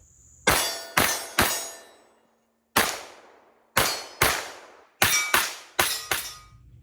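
Nine sharp, loud gunshots from a custom V12 ported Bul SAS Tac 4.25 pistol, fired in quick pairs and triplets with short pauses between groups, each crack trailing off with outdoor ring.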